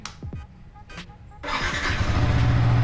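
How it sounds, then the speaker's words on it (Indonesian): A few short cranks, then a used Yamaha R15 V3 motorcycle engine catches and settles into a rough, steady idle, close and growing louder. "Itu suara mesin"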